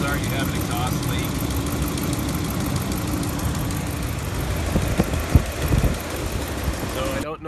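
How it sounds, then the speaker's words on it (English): Dodge Ram with a HEMI V8 idling with an exhaust manifold leak from sheared bolts, a steady rough engine drone with fast ticking throughout, close and continuous, with a brief knock near the end. "So if you have this, chances are you have an exhaust leak."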